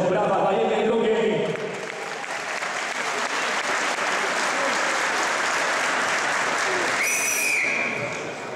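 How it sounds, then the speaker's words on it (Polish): Crowd applause for two women wrestlers at a KLZ wrestling match as they step to the centre of the mat, steady clapping from the stands with a voice over it at first and a whistle near the end. "Brawa dla jednej, drugiej."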